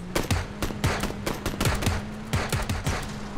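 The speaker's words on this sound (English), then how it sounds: "I can't tell if they're shooting each other or you actually saw someone." Rapid bursts of gunfire in the video game PUBG, sharp cracking shots in quick irregular clusters, fairly loud and close, with no talking over them.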